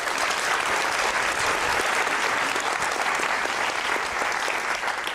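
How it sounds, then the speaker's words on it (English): Sustained, dense applause from a large theatre audience at the National Theatre, steady and loud throughout with no pauses. "Round of applause, please."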